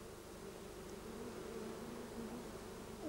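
Honeybees buzzing around a hive in the Wylye Valley in June, a steady soft drone of many insects with a few individual bees' wavering pitch passing close, faint and continuous.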